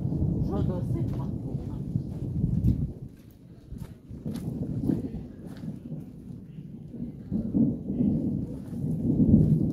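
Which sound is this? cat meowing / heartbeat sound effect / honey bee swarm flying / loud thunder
loud thunder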